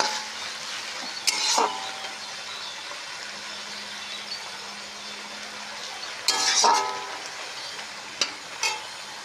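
Bitter gourd (karela) frying in a pan over low gas, a soft steady sizzle broken by a few sharp bursts of stirring and clinks of a utensil against the pan.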